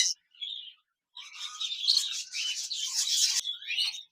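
A pair of budgerigars chattering close by, bursts of busy high warbling and chirps with short silences between, faint and without any talking.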